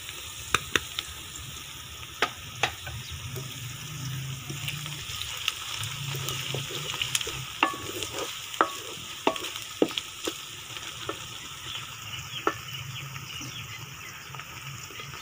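Onion and green chili frying in melted ghee in a pot, a steady close sizzle with scattered crackles and pops and occasional stirring scrapes throughout.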